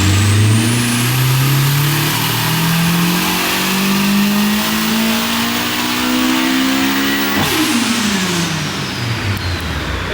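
A Nissan Silvia S15 with a VVL engine swap and Link ECU revs hard, its pitch climbing steadily through the gears in a loud, continuous close-up pull, then dropping sharply near the end before easing back.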